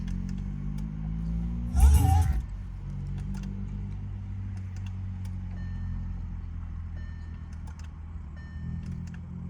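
Electric fuel pump on an Audi Q5 3.0 TDI V6 biturbo priming a new fuel filter, a steady low hum running throughout, with a brief louder clatter near the start.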